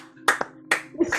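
Audience applause at an improv comedy show, three short bursts of clapping close together, fairly near, with a faint steady hum underneath.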